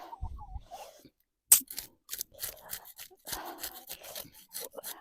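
Bream being scaled with a fish scraper in a kitchen before frying, a series of close, quick raspy scraping strokes after a brief quiet pause.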